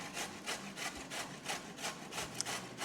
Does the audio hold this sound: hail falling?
no